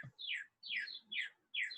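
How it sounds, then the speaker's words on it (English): Birds chirp outdoors by a back porch in Arizona, four bright, downward-sweeping calls repeated at a steady rhythm, moderately near and clear against quiet surroundings. "I am sitting on my back porch, and I hope you can hear the birds with me."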